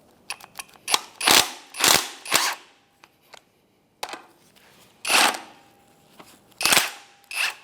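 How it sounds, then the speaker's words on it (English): Impact wrench with a 19 mm socket hammering at the strut top nut on a 2007-2013 Acura MDX, in short loud rattling bursts separated by silences and small clicks of the tool. "We're going to try and impact it with a 19 millimeter."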